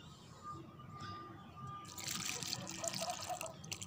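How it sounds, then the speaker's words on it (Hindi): Water splashes and trickles steadily onto plants as they are watered, growing louder partway through as the flow strengthens, with faint background noise and a distant bird. "हम पानी देने लगे हैं"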